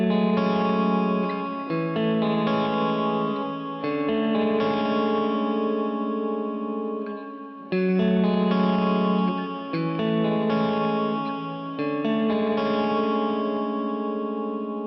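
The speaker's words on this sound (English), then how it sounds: "I really like the church reverb on this." An electric guitar played through a Joyo effects unit with a church-style reverb setting rings out in sustained distorted chords, each change blooming into a long washy tail, loud and alone with no talking.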